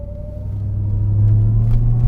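A RAM TRX engine fitted with an aFE Super Stock intake runs under moderate throttle inside the cab, a steady low rumble that swells gradually louder with a faint whine above it.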